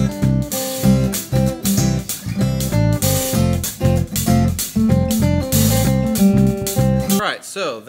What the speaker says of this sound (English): give a listen to the verse and pre-chorus groove on the hi-hat